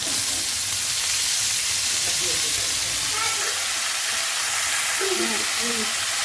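Spinach dropped into a hot pan with cooked tomato and green chilies, a loud steady sizzle and hiss close up with some stirring.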